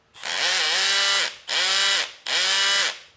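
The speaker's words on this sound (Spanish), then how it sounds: "el tacataca del taladro en modo atornillador" Cordless drill in screwdriver mode with its clutch slipping, three loud rattling bursts of rapid mechanical clicking, each lasting about a second with brief gaps between them, close up with no talking.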